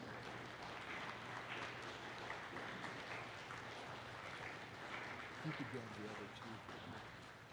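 Audience applauding honorees at a college convocation and campus blessing, a soft, steady patter of clapping from a distant crowd running throughout, with talk underneath.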